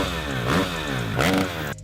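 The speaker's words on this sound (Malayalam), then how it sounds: "പിന്നെ ഇത് 4 സ്ട്രോക്ക് എഞ്ചിൻ്റെ സൗണ്ടാണ് നിങ്ങൾ രണ്ടാമത് കേട്ടത്." A four-stroke engine idles close by with a throbbing hum and is revved twice in quick swells, each rising and falling back, before cutting off at the end.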